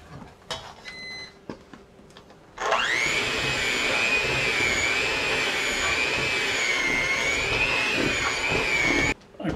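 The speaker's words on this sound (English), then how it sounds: "you can definitely hear from the sounds of the mixer that this dough is getting thick" A stand mixer kneading thick potato candy dough: after a few soft knocks, the motor starts with a steady, loud whining hum and keeps running without a break, then cuts off abruptly near the end.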